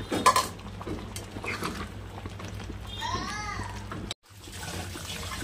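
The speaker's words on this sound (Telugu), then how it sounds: "చింత చిగురు వేసుకొని మళ్ళీ ఒకసారి బాగా కలుపుకుందాం" Metal utensils clink and scrape against a pot as chicken curry with tender tamarind leaves is stirred, with faint watery sounds and some quieter background noise.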